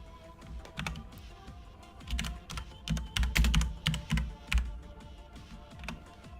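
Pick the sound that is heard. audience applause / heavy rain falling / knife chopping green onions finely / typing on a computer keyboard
typing on a computer keyboard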